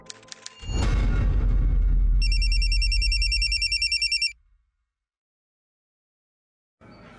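A telephone rings loudly after a brief opening thud and tones, a long electronic bell-like trill lasting a few seconds before cutting off into silence, with a faint sound returning at the end.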